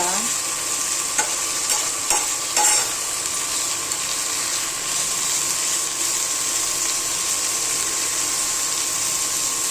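Bitter gourd (karela) frying in a pan, giving a steady close sizzle with a few scraping stirs early on, continuous and even, without any talk.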